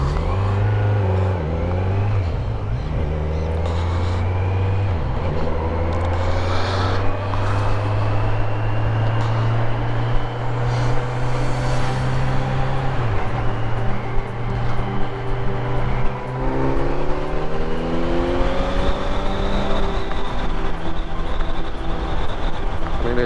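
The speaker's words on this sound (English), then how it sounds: "it sounds so good the way it is, and it's not a super loud bike, but it's got, I don't know, to me it like really has a killer sound" A 2022 Kawasaki Z900 SE motorcycle with its stock exhaust runs loud and close, a steady engine drone rising and falling through revs in a smooth, throaty tone.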